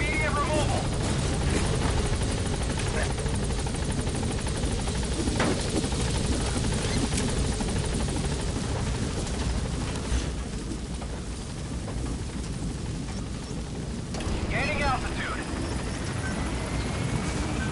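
Video-game helicopter approaching a landing zone with an obstruction blocking touchdown: a steady, loud rotor drone fills the whole stretch, with a radio voice talking over it.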